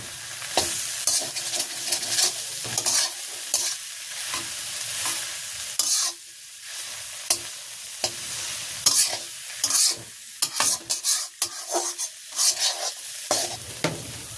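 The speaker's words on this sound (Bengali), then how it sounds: "একটু হলুদ, পেঁয়াজটা সুন্দর করে ভাজি করে নিয়েছি। এখন মিশিয়ে দেবো।" A spoon scrapes and stirs fried onion with turmeric and salt in a pan, a close, uneven run of scraping strokes and short pauses over a soft continuous sizzle, with no voices.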